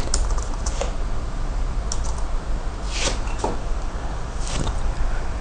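Steady typing on a computer keyboard, quick clicking keystrokes with a few louder taps, close and alone.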